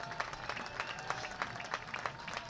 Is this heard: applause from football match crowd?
yes